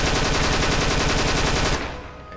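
Modded gunfire in the Fallout 4 video game, a loud, rapid automatic burst of shots that runs continuously and then cuts off into a brief fading echo.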